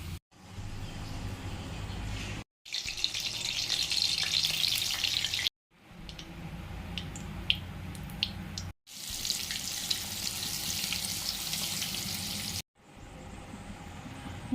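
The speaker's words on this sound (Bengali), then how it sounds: "গোটা জিরে আর শুকনো লঙ্কা ফোড়ন দিয়ে দিয়েছি।" Whole cumin seeds and dried red chillies tempering in hot oil for a Bengali egg curry, giving a bright, continuous sizzle in several bursts separated by brief silent cuts, with occasional crackles and pops over the steady hiss.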